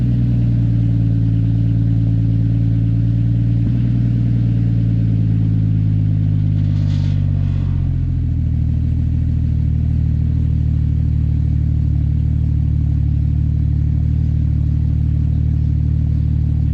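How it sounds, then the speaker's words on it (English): Car engine with six new ignition coils and spark plugs running loud and close on its first startup, a deep steady rumble that shifts pitch as revs drop and settle into a lower idle. "All 6 new coils and spark plugs are installed. So let's fire it up and see how it runs."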